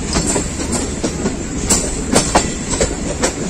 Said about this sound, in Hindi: रेल कार को लूप लाइन पे ले लिया गया है।